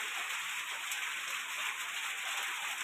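Steady rain pours down in a rural yard, a dense continuous hiss of drops falling evenly throughout with no break.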